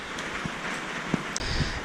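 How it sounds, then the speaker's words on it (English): Steady rain falls outside a shop on a wet day, a constant close hiss of drops with a few brief louder spatters, no voices present. "Rainy day here at the shop"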